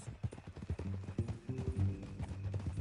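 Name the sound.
horse hooves clip-clopping in Red Dead video game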